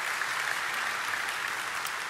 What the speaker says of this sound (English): Don't you think he deserves one more round of applause?